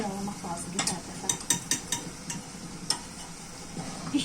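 Crepes cook in a frying pan at home, with a string of sharp utensil taps and clinks against the pan over a soft background of faint sizzling.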